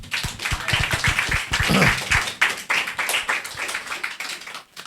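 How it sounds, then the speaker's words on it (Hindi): Audience clapping at the close of a Hindi church Bible teaching session, a scattered burst of separate hand claps, fairly close and uneven in rhythm, with no one speaking over it. "सो वेरी गुड, आप सबके लिए तालियां"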